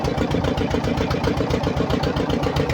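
A boat engine on a river in the Sundarbans runs with a loud, close, steady throbbing drone and an even pulsing rhythm throughout, without talk.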